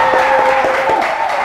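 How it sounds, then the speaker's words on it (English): Applause from a game-show studio audience, a steady wash of clapping under a loud continuous tonal music bed, brief and fairly close. "Plus 10, a round of applause."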